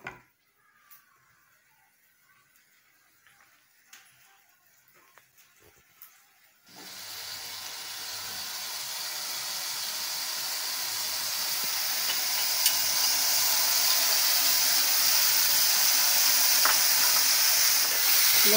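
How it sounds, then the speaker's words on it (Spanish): Onion is dropped into hot oil and starts frying, a few quiet clinks first, then a sudden loud, steady sizzle that builds and holds, close up, with no talk. "Ahora voy a freír la cebolla y con los demás ingredientes."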